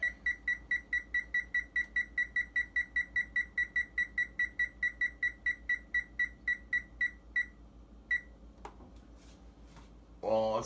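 A kitchen timer beeps in a fast, even series of short electronic chirps while being set during pizza making, close and clear, with a couple of spaced final beeps and a clatter at the end.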